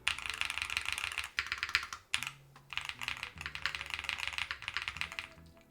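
Close, steady typing on a mechanical keyboard with lavender Hall effect switches, rapid bursts of full-sounding clacks with short pauses between runs.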